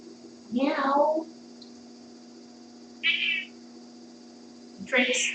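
A cat meows outdoors several times, a drawn-out near call followed by shorter, higher meows spaced a couple of seconds apart over a quiet background.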